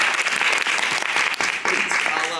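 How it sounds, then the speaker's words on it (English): Audience in an improv class graduation show claps together, a dense continuous round of applause lasting the whole stretch, fairly close and even, with a few voices mixed in. "a round of applause"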